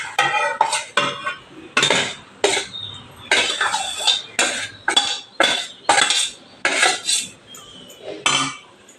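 A metal spoon stirs and scrapes spiced rice in a kadai, producing a quick series of sharp clinks and scrapes in an irregular rhythm, close and fairly loud, with no talk.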